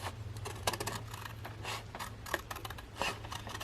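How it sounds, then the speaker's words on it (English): Scissors cut across the top of a paper envelope for a junk journal pocket, making a run of quiet, crisp snips and papery scrapes at an uneven pace, close to the listener. "I'm very carefully going to cut across the top, going as straight and close to that as I can"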